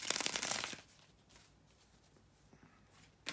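Tarot cards being shuffled by hand: a quick burst of crisp, riffling card noise up close at the start, then near silence with faint handling rustles before another short shuffle sound at the end.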